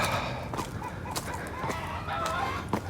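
Outdoor chickens cluck and a rooster crows in Puerto Vallarta, Mexico, a busy chorus of repeated calls at moderate distance layered over steady background noise, with no talking.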